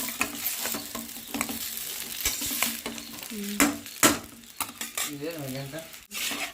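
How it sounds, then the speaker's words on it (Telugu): Veg noodles are tossed in oil over a high flame. Continuous sizzling mixes with repeated clattering scrapes of a utensil against the pan, and a few louder knocks land near the middle and end. "అలా గెంజుతో అయితే బాగా కలిపి కలిపేసుకున్నాం"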